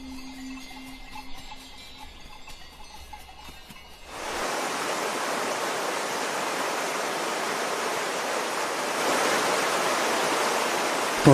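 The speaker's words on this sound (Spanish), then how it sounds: "El agua se precipita por las laderas de las montañas" Meltwater rushes down alpine mountain slopes in Switzerland's Engadine in spring, a broad, steady roar that bursts in abruptly after a quieter stretch and then holds loud and constant.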